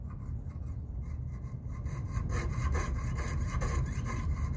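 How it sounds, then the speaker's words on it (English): Hand saw blade cutting copper sheet, a faint, close rhythmic rasping of teeth biting metal in quick repeated strokes that grow slightly louder toward the end. "as you turn your metal, you're gonna hear the teeth grab and it's gonna saw a little bit"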